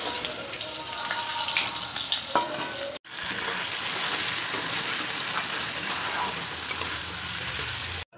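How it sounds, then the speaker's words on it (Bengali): Cut meat and potatoes cooking in a hot wok with spices, a loud continuous sizzle close by, broken by a brief drop-out partway through, then sizzling strongly again until the end. "তো চলো মাংসটা এবার রান্না করে নিই।"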